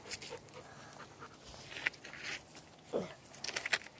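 A dog pants in faint, intermittent bursts outdoors on a rocky, wooded walking trail, with the breathing coming from close by against a quiet background.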